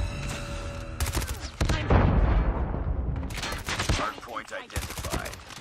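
QQ9 submachine gun fired in a Call of Duty hardpoint multiplayer match: quick bursts of close, loud gunfire broken by short pauses, mixed with other battlefield shots and game noise.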